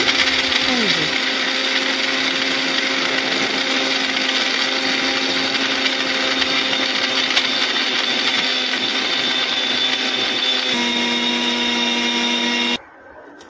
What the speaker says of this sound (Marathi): आणि बिस्किट आपले मिक्सरमधून बारीक असे दळून घ्यायचे आहे